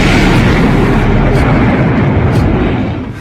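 A loud, deep rumbling blast from a drone attack in Moscow fills the clip, heavy low-end roar that slowly fades over a few seconds.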